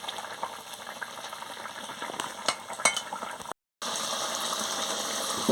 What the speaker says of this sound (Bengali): গড়গড় করে ফুটছে।